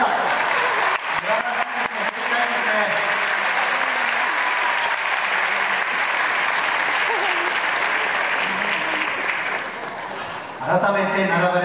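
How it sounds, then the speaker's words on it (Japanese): Audience applause at a Japanese football club's new-season unveiling, greeting the newly signed players: sustained loud crowd clapping that runs for over ten seconds, with a voice speaking over it, dipping briefly before a burst of talk near the end. "もう一度大きな拍手をお願いいたします。"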